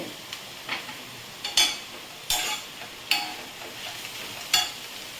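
Chicken stirred in a pan over very low heat, a series of distinct spatula scrapes and clinks at irregular intervals over a quiet, faint sizzle, with no talking.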